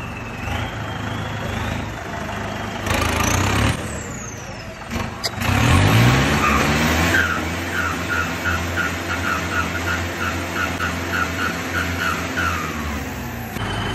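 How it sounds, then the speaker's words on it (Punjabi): A parked tractor's engine runs after being started, rumbling loudly with a surge of revving midway, then settling into a steady idle with a repeating higher-pitched pattern over the throb. "ਲਓ ਵੀ ਟਰੈਕਟਰ ਕਰ ਲਿਆ ਸਟਾਰਟ"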